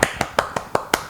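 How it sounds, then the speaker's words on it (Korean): Six sharp, evenly spaced claps about every fifth of a second, close and fairly loud, as a small group of students in an elderly-care instructor training class applauds in welcome. "우리 큰 박수로 한번 서로를 위해서 환영하겠습니다"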